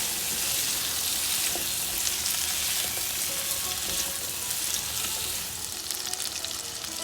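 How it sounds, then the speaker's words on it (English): Pumpkin pieces with the skin on fry in mustard oil, giving a dense, even sizzle that holds steady for several seconds and eases slightly toward the end, with no talking. "And let's fry this in oil a little bit."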